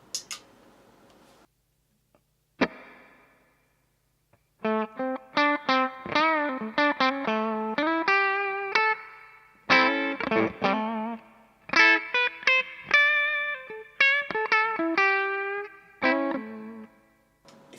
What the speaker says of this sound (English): So here is the reverb on the Twiggy.